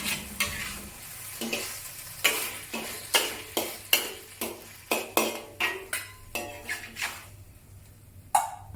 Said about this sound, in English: add the cornstarch slurry into the wok to thicken the sauce